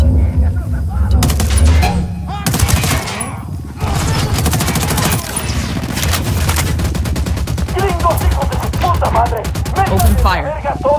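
Loud, dense gunfire in Ghost Recon Wildlands, with rapid automatic bursts and sharp cracks almost continuous throughout, with voices calling out in between.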